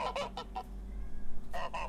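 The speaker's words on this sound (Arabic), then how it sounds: "الوزة بقى صوتها مختلف، تيجي نسمع صوتها. ايوه هو ده بقى صوت الوزة." A goose at a zoo honks four times in quick succession, pauses, then honks twice more; loud, nasal and close.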